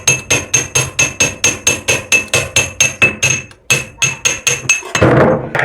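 Rhythmic hammer blows strike a tight hand wheel on a sewing machine, about twenty sharp metallic knocks in a steady beat that pause briefly and end in a rougher clatter as the wheel comes loose.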